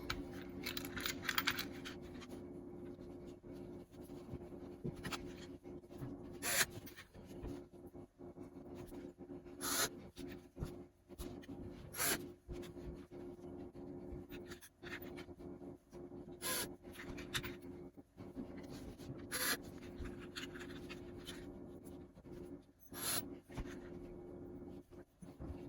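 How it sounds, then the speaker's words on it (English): Quiet, close scraping, rubbing and sharp clicking as the backing boards of a Fender Princeton Reverb guitar amplifier are handled and fitted back into place, with irregular knocks throughout. "Now we're just going to put our backing boards back on"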